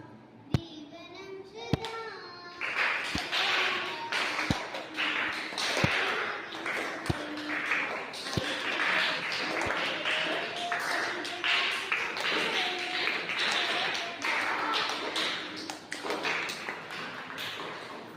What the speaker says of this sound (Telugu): క్లాప్స్ కూడా